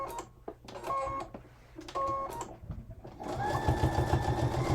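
A sewing machine back-stitches over a seam on thrifted jeans trimmed with stars and lace: two short rattling bursts, then a longer continuous run of stitching, close and alone.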